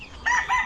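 A rooster crows briefly among breeder gamecocks, a short, nearby two-part call cut off within a second.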